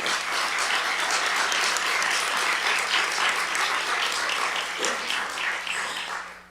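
An audience at a quarterly board meeting applauds loudly and steadily for several seconds, the clapping dense and sustained before tapering off at the end.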